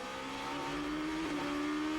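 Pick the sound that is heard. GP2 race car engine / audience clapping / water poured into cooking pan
GP2 race car engine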